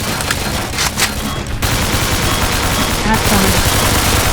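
Rapid gunfire in the horror shooter game Slendytubbies, dense bursts of close shots running almost without pause, with a brief spoken word over the top.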